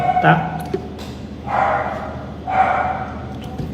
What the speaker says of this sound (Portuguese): vocês vão ouvir o meu cachorro latir lá fora